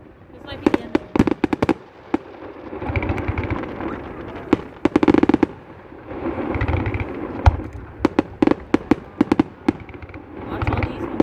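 Repeated fireworks bursts crackle and pop in irregular clusters, some close and loud, with sharp transient bangs scattered between rumbling booms, while people talk in the background throughout.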